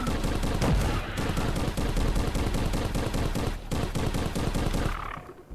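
Dense, rapid gunfire fills a VR shooter match in Crashland on nightmare mode, shots cracking close and continuous with hardly a break before cutting out near the end.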